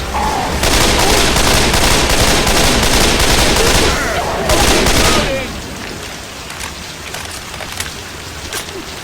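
Sustained heavy gunfire in the zombie shooter Left 4 Dead 2 during a stormy campaign, dense rapid shots for about five seconds, then dropping to a quieter rain-like hiss with occasional distant pops.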